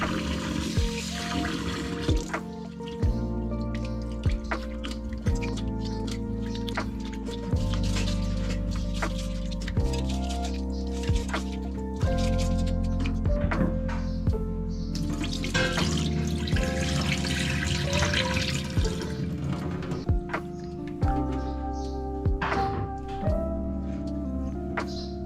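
Basmati rice is washed in a pot with water, a continuous splashing and sloshing with small clinks and trickles running steadily throughout.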